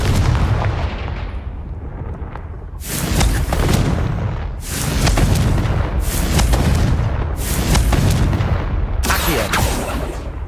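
Confringo spell explosions in the Hogwarts Legacy video game, a rapid series of loud booming blasts, roughly five or six heavy bursts over a continuous rumbling battle din.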